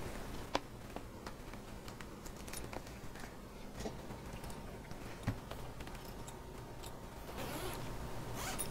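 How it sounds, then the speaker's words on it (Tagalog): Zipper on a helmet bag being opened, with faint scattered zip strokes and small handling clicks close by in a quiet room, with no talk. "May zipper siya dito"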